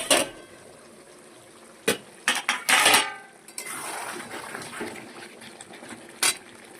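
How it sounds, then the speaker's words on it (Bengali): A pot lid clanks and a spoon scrapes while methi chicken cooks in a pan, several sharp close metallic knocks followed by a softer bubbling simmer and one last clink. "এবার আবার একটু ঢেকে দেবো, আবার একটু খুলে আবার একটু নাড়িয়ে দেবো।"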